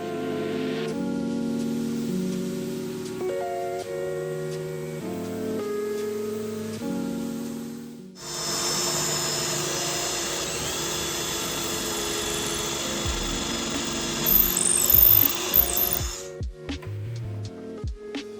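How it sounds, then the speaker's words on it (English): A Wagner Flexio 3500 paint sprayer applies a top coat to furniture, a loud steady motor whine and airy hiss running for several seconds after a quieter stretch at the start. "I'm spraying the top coat using my Flexio 3500 sprayer from"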